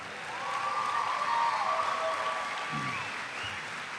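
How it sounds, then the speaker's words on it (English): Steady audience applause fills a large venue at a high school graduation ceremony, a sustained wash of many clapping hands heard from a distance at moderate level. "Could we give them another round of applause, please?"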